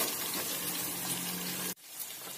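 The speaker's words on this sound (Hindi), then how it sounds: "1 कप मैंने यहाँ पर पानी लिया है जो मैं इसमें ऐड करूंगी।" Water pours steadily into a pan while making besan and suji khaman dhokla, a continuous close gush that cuts off abruptly near the end.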